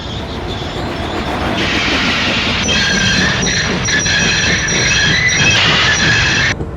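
Engine Donald brakes to a halt at Knapford Station, steel wheels squealing in a loud, sustained high screech over the rumble and clatter of the rolling train, fading out only as it stops.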